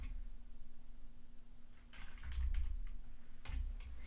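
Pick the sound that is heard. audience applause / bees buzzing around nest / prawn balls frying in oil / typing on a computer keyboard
typing on a computer keyboard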